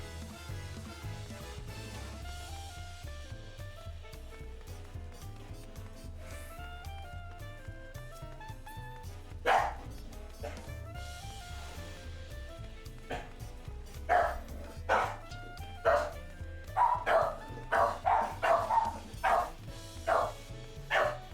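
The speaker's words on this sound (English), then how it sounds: "she's barking for a reason" Dog barking in Final Fantasy 14 Dawntrail, with repeated sharp yips and barks clustered in the second half over steady game music, moderately close.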